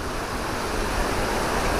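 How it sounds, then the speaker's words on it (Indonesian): Munduk waterfall in Bali pours in a steady, dense broadband rush, loud and close, with no voices over it. "ternyata di sebelah sana juga ada teman-teman beberapa air terjun ya yang datang dari sana"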